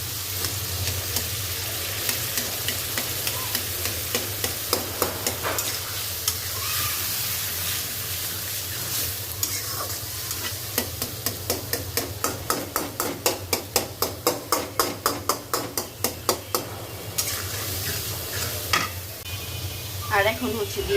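Scrambled egg cooking in a hot pan for pasta, with a steady loud sizzle and a burst of rapid metallic taps and scrapes from a utensil against the pan partway through, all close up.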